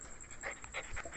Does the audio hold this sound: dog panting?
yes